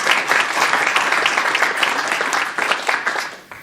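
Enthusiastic audience applause fills a launch event with presenter talks, a dense steady wash of clapping that stays loud throughout and fades slightly at the end.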